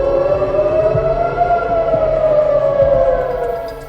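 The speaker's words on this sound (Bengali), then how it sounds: "হামলার সময় তেল আবিবের কয়েকটি স্থানে সাইরেন বেজে ওঠে" Air raid sirens in Tel Aviv sound during an attack, one loud sustained wailing tone that holds steady and slowly drifts in pitch, alone and close.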